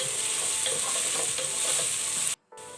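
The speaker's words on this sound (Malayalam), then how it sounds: "തക്കാളി ഇട്ട് കൊടുത്ത് നന്നായിട്ടൊന്ന് നമുക്ക് വഴറ്റി കൊടുക്കാം." Chopped tomato frying and being stirred in a pan for chicken curry gives a loud, continuous sizzle with faint scraping of the spoon, ending in a sudden brief cut to near silence.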